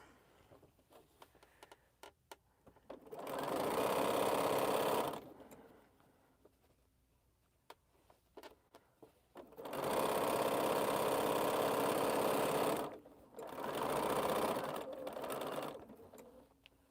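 A sewing machine stitches quilt rows in three steady motor runs of a few seconds each, close and fairly loud, separated by quiet pauses with faint handling clicks.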